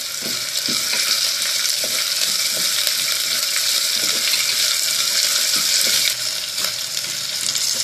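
Chopped onion sizzles loudly and steadily in hot oil in a pan, a continuous dense hiss with faint intermittent stirring taps throughout.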